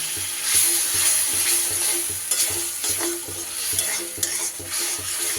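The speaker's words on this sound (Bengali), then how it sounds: "মশলার সাথে মটরশুঁটিটাও একটু কষিয়ে নিতে হবে" Peas are sautéed with spices in a pan, with a steady close sizzle and a regular scraping rhythm of stirring strokes, plus a few light clinks from the utensil.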